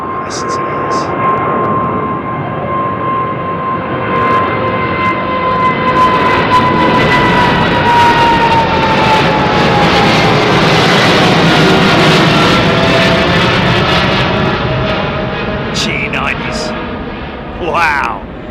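A jet airliner with General Electric engines departs runway 09R at London Heathrow, its loud roar and whine building and shifting in pitch as it passes and then slowly fading, while people talk nearby.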